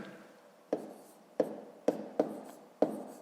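A pen taps and scratches on paper while numbers are written by hand for column subtraction, producing five sharp strokes at uneven intervals, each fading quickly, close and fairly quiet with no talk.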